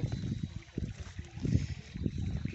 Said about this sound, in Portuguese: A água.